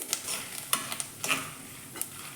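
Curry leaves and roasted gram (putani) dry-roasting in a pan for masala mandakki, heard as faint, sparse scraping and clicking of a spoon stirring against the pan, with no talking.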